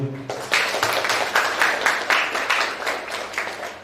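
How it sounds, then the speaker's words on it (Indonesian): An audience at a conference claps in a series of rhythmic waves that swell and fade, loud and fairly close, with a brief musical tone fading out at the start. "Beri aplaus untuk beliau."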